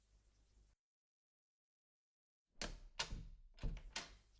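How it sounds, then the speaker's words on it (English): A door is handled after a moment of silence: a few close clicks and knocks, likely a latch turning and the door swinging open. "Opening the door, you exit the store."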